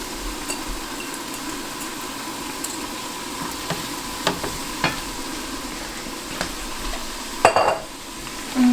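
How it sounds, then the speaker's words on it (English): Chopped mushrooms going into a pan of olive oil with browned onions and garlic, a steady soft sizzle with occasional light clinks and stirring scrapes, close up and alone. "And then you can just put the chopped mushrooms here."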